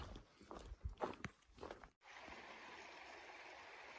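A small river creek runs below a forested stretch of the Appalachian Trail, heard as a steady, faint broadband rush of water, after a few seconds of crunching footsteps on the trail.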